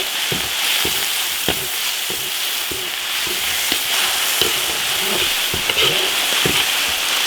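Sauce with Sichuan pepper and dried chillies stir-fries in a hot iron wok, a steady loud sizzle with repeated sharp clacks of the spatula against the metal, no voices.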